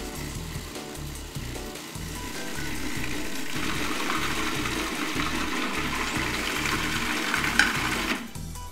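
A blender runs steadily while olive oil is streamed into basil pesto, a continuous whirring motor with a rising, brighter grind toward the end before cutting off abruptly near the finish.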